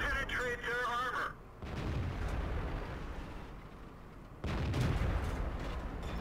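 A Cromwell tank's gun fires in the World of Tanks video game, giving a heavy boom followed by a rumbling tail, with a second blast near the end and someone talking over the start.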